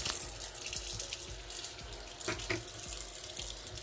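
Tap water runs into a sink while cast iron pans are washed, a steady splashing stream with small clinks and knocks of the pans, fairly quiet and without talk.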